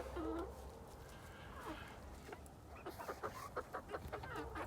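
Quiet clucking from several chickens in a flock with a rooster, a steady burst of short rhythmic clucks toward the end, heard faintly under outdoor background noise and a voice.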